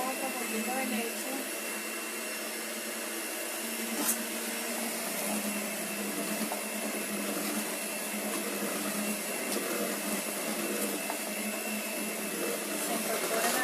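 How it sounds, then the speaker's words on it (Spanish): A steady electric hand mixer motor whines continuously at moderate volume without pause, beating vanilla cake batter. "No quiero tardarme mucho con la batidora."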